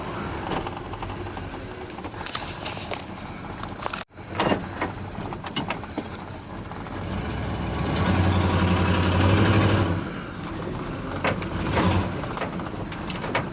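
A lifted classic dentside Ford F150 pickup runs at idle, a steady deep engine rumble that swells briefly as if revved, with a short gap near the start and some faint clatter.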